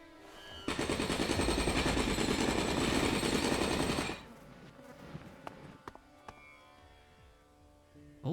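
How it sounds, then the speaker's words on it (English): A jackhammer in the ELEX video game, used in a cave, rattles loudly in one rapid, continuous burst of hammering for about three and a half seconds, then cuts off into a quieter ambience with scattered clicks. "gonna use my jackhammer"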